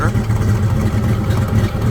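A 1969 Ford Mustang Mach 1 restomod with a 427 side oiler V8 and Hypo exhaust rumbles steadily up close, a deep, even idle burble that holds at constant loudness with no break.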